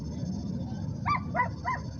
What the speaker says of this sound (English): There's totally a dog in a car.